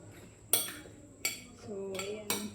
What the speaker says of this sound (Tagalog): So, haluin natin.